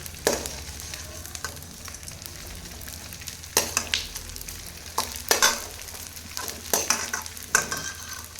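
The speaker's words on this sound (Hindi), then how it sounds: "तेज आंच पे ही हमें भूनना, बस ये ध्यान रखना" Dry fruits roast in a pan over a high flame, crackling and sizzling while a spoon scrapes and stirs in repeated sharp bursts that grow louder in the second half.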